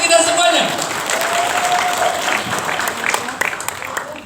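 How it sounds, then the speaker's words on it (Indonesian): Steady applause from a crowd, dense and continuous for the whole stretch, with a few sharper individual claps near the end. "Aplaus untuk kita semuanya."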